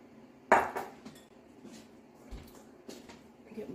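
Utensil stirring thick homemade potato snacks in a hot pan gives one sharp clatter near the start, then faint scraping and light knocks at a close distance.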